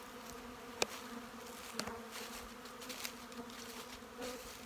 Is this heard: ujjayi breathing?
no